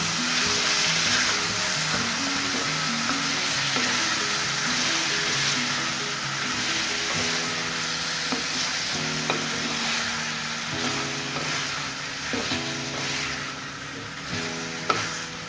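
Chicken with turmeric stirred in a hot pan for a dry chicken dish: a steady, loud sizzle runs throughout, with repeated scraping and clinking from the spoon against the pan.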